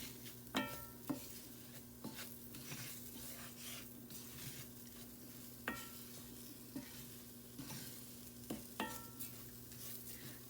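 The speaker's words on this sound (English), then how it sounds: "I'm going to toast these around with the seasonings" Rice and black beans toast with seasonings in a hot pan. A spoon scrapes and clinks against the pan in irregular strokes over a steady close sizzle and a low constant hum, with no talking.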